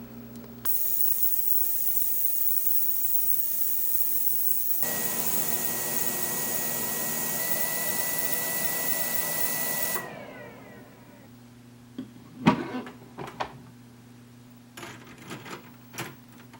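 An ultrasonic cleaner running a cycle on .223 brass casings gives a steady, bright hiss and hum for several seconds before shutting off, followed by a few quiet clicks and taps.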